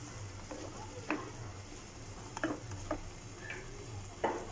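Boiled eggs added to a pan of cooking chickpeas give a low, constant sizzle, broken by several short scraping and clinking stirs spread across the stretch.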